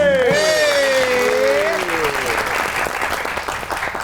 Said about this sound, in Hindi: आपकी बहुत सी तालियों में the one and only Mansoor Azam Qadir